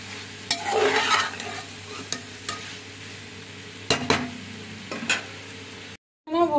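Shredded cabbage is tipped into pasta in a pan for a desi-style vegetable pasta, with a low sizzle under a series of sharp spoon scrapes and clanks spaced a second or so apart, cutting off briefly near the end.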